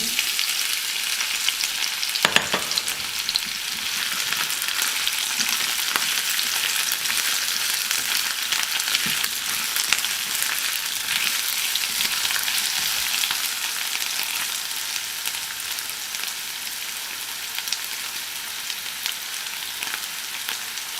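Pork pieces for pork paprika sizzle and fry in a pan, a steady, bright crackle after a sharp stir or drop near the start, continuing alone with no voices.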